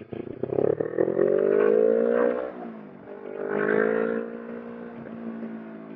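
Kawasaki Ninja 250R motorcycle engine heard up close on a ride, revving up and easing off in rising and falling whines with a steady drone underneath, no talking.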